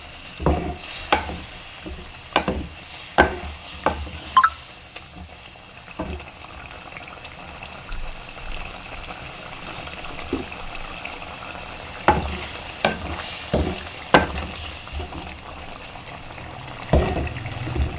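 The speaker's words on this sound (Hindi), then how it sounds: "लहसुन अदरक का पेस्ट इसे भून लेंगे माशाल्लाह से" Garlic ginger paste and chicken fry in a karahi, a soft continuous sizzle and bubbling broken by repeated scraping stirs of a spoon against the pan at irregular intervals, no voices.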